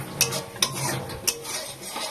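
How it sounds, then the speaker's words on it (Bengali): Food being stirred as it fries in a kadai: sizzling hiss with three sharp metallic scrapes or clinks of a utensil against the pan, close and moderately loud. "নাড়তেই থাকছি।"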